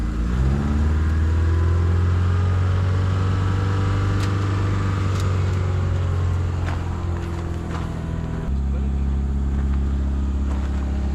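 The engine of a 2000 Subaru Impreza runs close by with a loud, steady low rumble. Its pitch shifts slightly as the revs change partway through, and no one speaks.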